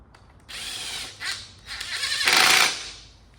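A power tool drives bolts into the cover of a manual JZ transmission in a garage, three close whirring bursts, the last longest and loudest, with quiet gaps between and no talking.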